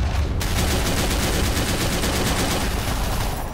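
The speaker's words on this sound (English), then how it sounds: "So the Shermans are still firing high explosive rounds into that trench line." Sherman tanks in the Men of War game fire high explosive rounds at a trench line, a dense, loud, continuous barrage of booming blasts and rapid gunfire that fills the whole stretch.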